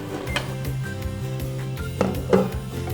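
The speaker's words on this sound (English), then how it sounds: "So I'm just going to give it one last stir and cover the pan" A spatula scrapes and knocks against a pan of Thai basil pineapple fried rice in a few clattering strokes, ending with the clunk of a lid set over the pan, close and fairly quiet, no talk.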